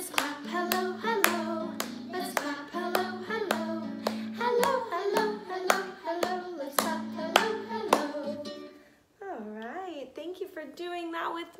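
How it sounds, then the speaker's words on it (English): Hands clap in a steady rhythm along with a cheerful sung children's tune, the claps crisp and regular, followed by brief talk. "Let's clap hello, hello."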